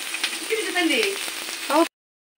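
Red chutney ingredients with curry leaves frying in a pan, a steady close sizzle with stirring scrapes that swells briefly near the end before cutting off.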